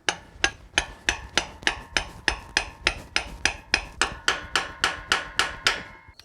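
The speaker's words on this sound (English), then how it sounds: "we're going to tap that in gently with a hammer." Hammer tapping a 72mm oversized bearing seal driver onto the rear axle spindle of a Toyota Land Cruiser 70/80/105 Series: about twenty evenly spaced, crisp metallic taps in a steady rhythm, close and clear with no talk.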